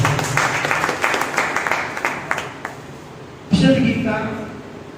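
Crowd applause at a Hindi memorial gathering for a birth anniversary, a burst of clapping lasting a couple of seconds that fades as a voice speaks over it on a hall microphone.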